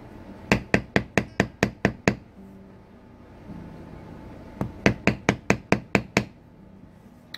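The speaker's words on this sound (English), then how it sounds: "chisel away carving and imprinting into the leather" Rapid runs of sharp tapping as metal tools strike and stamp leather, two bursts of about seven or eight crisp, evenly spaced knocks separated by a quieter pause with faint background noise.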